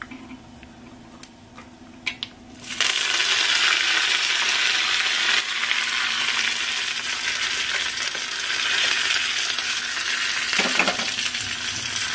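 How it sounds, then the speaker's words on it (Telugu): Tempering spices, garlic and chillies hit hot oil for mango and toor dal curry with a sudden loud sizzle that keeps crackling and hissing steadily, close by, after a few quiet clinks. "పప్పు పోపు వేద్దాము."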